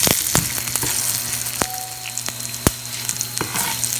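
Lentils and garlic frying in oil for a spicy chickpea tempering give off a steady close sizzle, broken by a few sharp clicks and spatters.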